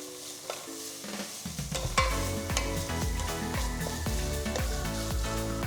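Chopped tomatoes are stirred into chicken soup in a hot pan, with a soft sizzle and the scrape of a spoon circling close by.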